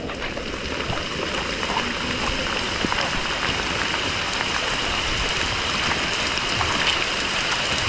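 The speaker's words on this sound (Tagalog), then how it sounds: "Humadali yung ulan." A steady, loud hiss of heavy rain pouring down, with scattered drips and splashes throughout and no clear voices.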